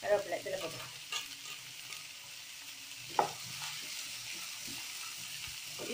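Vegetables with carrot, coriander and curry leaves sauté in a pan for fish fried rice, giving a soft continuous sizzle with a few stirring clicks and scrapes, quiet and close, no talking.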